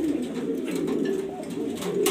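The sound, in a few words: racing grizzle pigeons cooing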